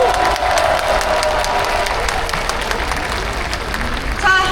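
A large outdoor campaign rally crowd at Gwanghwamun's Cheonggye Plaza in Seoul breaks into sustained applause mixed with cheering, a broad roar of clapping that stays loud throughout and swells briefly near the end.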